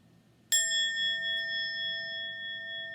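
A single church bell strike rings out clearly, its pure tone sustaining and slowly fading over a few seconds with no voices.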